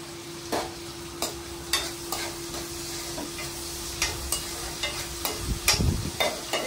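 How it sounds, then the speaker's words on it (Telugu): Onions frying in a pan for gongura chicken, a steady close sizzle broken by repeated sharp scraping strokes of a spatula stirring, with a faint constant hum underneath and no talk. "కొంచెం నేను ఉప్పు వేసుకుంటాను ఉల్లిపాయలు వేగడానికి వేస్తున్నానండి"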